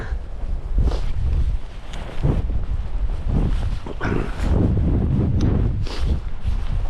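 Strong wind on a coastal hiking trail buffets the microphone in loud continuous gusts and rumbles, with no clear talking.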